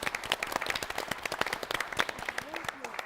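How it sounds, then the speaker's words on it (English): Quiz-show audience clapping for a contestant in a brief, lively round of applause, close and moderately loud, with a voice briefly audible near the end. "give him a round of applause"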